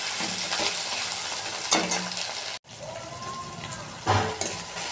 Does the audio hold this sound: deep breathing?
no